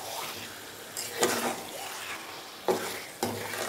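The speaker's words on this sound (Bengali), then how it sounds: "দেখবেন আদা রসুনের কাঁচা গন্ধটা চলে গেছে তখন এখানে দিয়ে দিন লিভারগুলো। আর লিভারগুলো দেওয়ার পরে একবার ভালো করে এটাকে মিশিয়ে নিন" Chicken livers stirred in a frying pan with ginger and garlic: a steady close sizzle with three sharp scraping strokes of the spoon across the pan.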